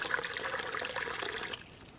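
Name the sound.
pouring water into a container for a drink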